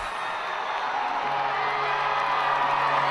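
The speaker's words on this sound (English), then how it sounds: "Cornelius, who rips a shot and sends the crowd into a frenzy" A home crowd at a lacrosse game roars and cheers after an overtime goal, a dense sustained wall of shouting and whooping with scattered clapping.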